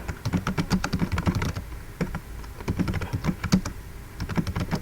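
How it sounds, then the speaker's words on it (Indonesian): Fingers type into spreadsheet cells in Microsoft Excel on a computer keyboard. Close, rapid key clatter comes in bursts separated by short pauses. "kalian ketik di sesuai sel"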